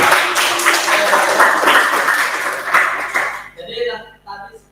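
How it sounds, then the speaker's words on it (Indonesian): Clapping for a participant in an online class comes through as a brief burst of scattered applause over a call connection, fading out into talk. "Oke, bagus ya, tepuk tangan untuk Bapak."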